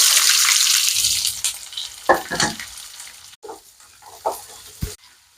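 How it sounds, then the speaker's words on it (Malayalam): Chopped onions go into hot Gold Winner oil with a loud, close sizzle that fades, followed by a few scraping knocks of stirring against the pan. "നമ്മൾ സബോള അരിഞ്ഞതിടണം."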